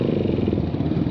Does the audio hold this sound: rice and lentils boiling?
no